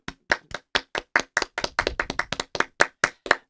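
Band members clapping on a stage, a series of sharp, evenly spaced hand claps, close and loud, with a brief quicker flurry in the middle.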